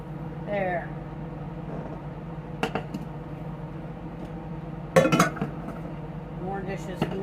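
Dishes and cutlery clink sparsely in a home kitchen while chicken gnocchi soup is being made, with a few sharp metallic knocks over a low background hum and talking.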